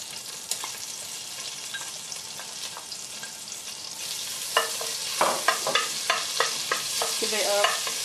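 Garlic sizzling in hot melted fat in a pan while cooking mussels, with a steady frying hiss throughout and a run of sharp stirring scrapes and clatters in the second half.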